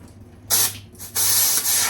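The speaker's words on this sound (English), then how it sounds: "I had the water, it was squirting out there" Water spraying in short hissing bursts out of a lawnmower tire valve, two sharp spurts followed by a longer steady spray, close and fairly loud.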